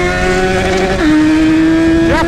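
A Yamaha XJ motorcycle engine revs nearby with a loud, steady tone that drops in pitch partway through and then climbs again in a quick rising rev near the end.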